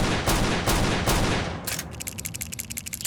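Gunfire from enemies in the video game CountryCide: a dense, loud clatter of shots gives way to a rapid, evenly spaced string of bursts, with no voices.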